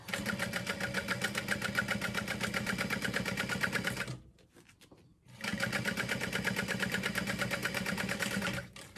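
A sewing machine stitches across the top of a handbag in a steady rapid run. It stops briefly with a few faint clicks, then resumes the same even stitching.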